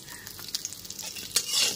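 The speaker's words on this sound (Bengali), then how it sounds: "লবণ আর হলুদটা খুব ভালো মতো মিশিয়ে আলুটা একটু লাল করে ভেজে নেব।" Potatoes and okra stir-fry with salt and turmeric in hot oil, making a steady close sizzle broken by quick scraping stirs of a utensil against the pan.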